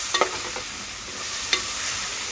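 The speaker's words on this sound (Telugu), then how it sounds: "ఈ పచ్చడి అంతా ఇలా వేసేసుకుని ఒక్కసారి ఇలా కలిపేసుకుని" Fenugreek-leaf tomato chutney stirred into a hot tempering in a pan gives a soft, steady hiss, with a couple of quick clinks near the start and one more later, no voices.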